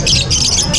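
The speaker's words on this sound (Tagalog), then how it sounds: "Anong klaseng ibon to? African Lovebirds." African lovebirds squawk in shrill, overlapping bursts close by in a bird shop, loud and continuous with faint background chatter.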